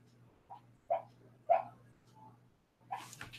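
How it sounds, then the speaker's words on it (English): A sleeping dog whimpers while dreaming, giving several short, soft, high whines and yelps spaced over a few seconds against a faint steady hum in a quiet room. "Just wondering what that noise was. My dog's dreaming."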